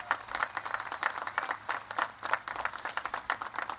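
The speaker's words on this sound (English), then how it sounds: "let's give a big round of applause to the entire faculty and staff that made this" A crowd at a Coast Guard Academy commencement applauds with faint, distant, uneven clapping that pulses in waves from beginning to end.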